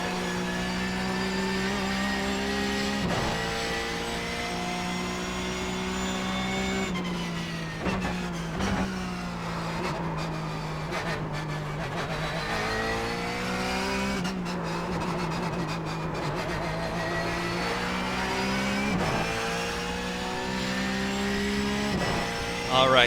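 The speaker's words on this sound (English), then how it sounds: "As we blast downhill toward the hairpin, you can see pretty decent acceleration." A Porsche 911 GT3 Cup race car in the iRacing video game roars continuously, its engine note climbing and dropping through gear changes as it accelerates downhill toward a hairpin, loud and steady throughout.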